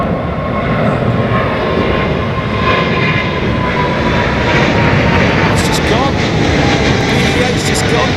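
A jet airliner passes at Heathrow Airport as a loud, steady roar of engine noise that fills the whole stretch, with a faint whine on top and no clear speech over it.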